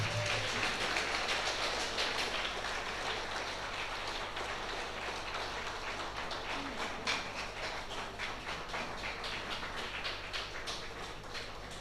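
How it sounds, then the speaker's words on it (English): A faint, steady patter of many hands clapping from a crowd at a Salesian jubilee celebration in the Shillong province, continuous and distant for the whole stretch. "Give them once again a round of applause"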